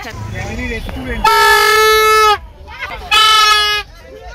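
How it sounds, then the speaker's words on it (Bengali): An external car horn, fitted because the car's own horn has failed, gives two loud, close, sustained blasts. Muffled voices and street noise fill the gaps between them. "এই যে হর্নটা ইউজ করা হচ্ছে, এক্সটার্নাল হর্ন"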